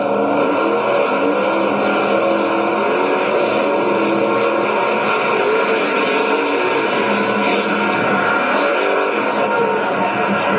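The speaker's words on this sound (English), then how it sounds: "Kirk Dabney in the GMC monster truck Nightmare was about to have one of his own in the slick shutdown area." The GMC monster truck Nightmare running on a slick, rain-wet track, a loud, constant engine roar with droning harmonics that hold steady through the whole stretch, with no clear speech.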